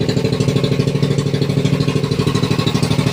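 A small engine chugs steadily up close, loud with a fast regular pulsing rhythm throughout.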